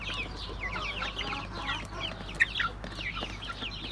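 Young Turken, Ameraucana and village chickens, including a rooster, clucking and chattering steadily nearby, overlapping calls with a brief sharper squawk midway, over a low background hum.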